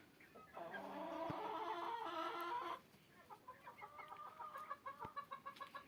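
Hen on a country dacha plot clucking close by: a sustained run of harmonic clucks, then a rhythmic series of short, repeated clucks, with no talk.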